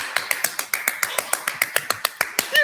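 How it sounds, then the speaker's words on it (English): Hand clapping, a rapid, regular run of about fifteen sharp, close claps at an even tempo, bright and distinct, with no talking over them. "He literally was clapping like this"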